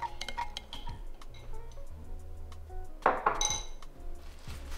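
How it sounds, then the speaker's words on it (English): A spoon stirs fish sauce, sugar and white pepper together in a bowl, making quiet, scattered clinks and taps against the dish, with a slightly louder clatter near the end. "and then stir it all together to combine."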